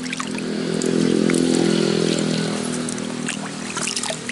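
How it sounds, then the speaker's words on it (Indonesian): Water is poured by hand around a chili plant growing in a polybag, a steady close splashing pour that builds, holds, then eases off with a few scattered drips at the end. "Kita siram keliling."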